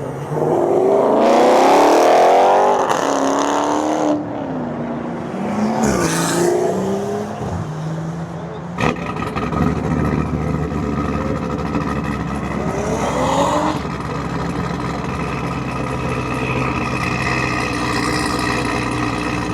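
A loud Corvette engine roars nearby at a car meet, revving and shifting through gears before settling into a heavy, rumbling drone that swells again later.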